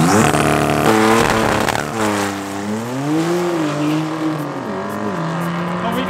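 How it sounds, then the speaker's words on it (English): An Audi RS7 and a BMW M3 drag race down the strip at Midvaal Raceway, engines roaring through rising gear pulls with shifts between them, loud and close, with no talk. "ourselves a drag race all the way down the track"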